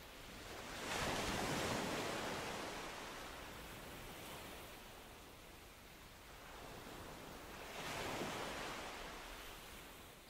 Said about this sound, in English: Listen to the timeless curl of the waves as they spread a lacework of foam on the sand.